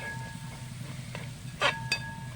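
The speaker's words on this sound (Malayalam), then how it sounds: "നിറം മാറുന്നവരെ നമുക്കിത് വഴറ്റിക്കൊണ്ടിരിക്കാം" Prawn biryani masala being sautéed in a pan, a soft steady sizzle with two brief sharp scrapes of a spoon against the pan near the end.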